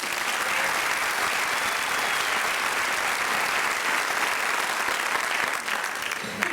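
Audience applause after a student choral performance at a school district event, a full, even wall of clapping from a large crowd lasting throughout.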